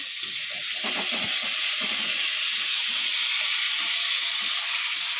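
Potatoes frying in a covered pan give off a steady, fairly loud sizzling hiss that carries on without a break, with faint kitchen clatter underneath.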